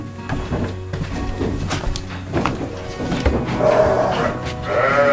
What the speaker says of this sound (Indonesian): Nah, ini salah satu contoh domba Garut betina yang bertanduk.